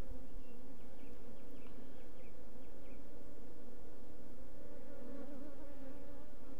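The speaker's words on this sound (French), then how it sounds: "il doit y avoir des nouvelles abeilles aussi" Honey bees buzz in a dense, continuous drone inside a hive, steady and close throughout with a faint high chirp early on.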